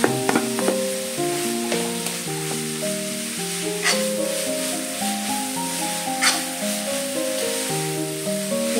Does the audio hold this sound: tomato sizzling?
yes